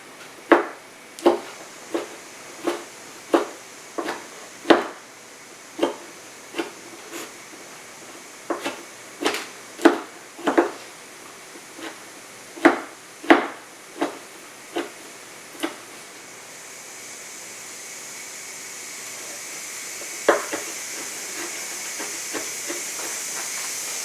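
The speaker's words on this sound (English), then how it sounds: "you're going to have to kind of do a rough chop with them" A knife rough-chops sticky dates on a cutting board, about twenty sharp, evenly spaced knocks fading out after fifteen seconds, while a pressure cooker steaming eggs hisses steadily in the background and grows louder toward the end.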